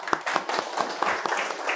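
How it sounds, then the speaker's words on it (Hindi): A student audience at a school session claps in quick, uneven bursts of sharp hand claps, moderately loud and fairly close throughout. "तालियां मारने से कुछ नहीं होगा"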